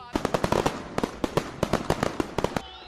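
Firecrackers and bombs bursting in a street celebration after India's Champions Trophy final win, a rapid irregular string of sharp cracks and bangs, loud and close, with chatter faintly underneath.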